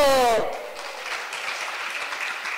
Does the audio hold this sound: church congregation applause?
yes